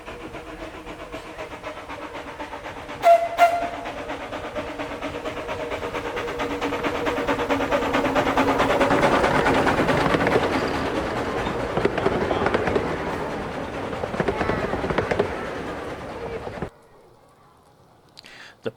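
The 0-6-0 tank steam locomotive Spirit of Adventure climbs a gradient on the 15-inch gauge Perrygrove Railway at a steam gala, its exhaust building to a loud, rushing chuff. A brief whistle sounds early, and the noise cuts off abruptly near the end.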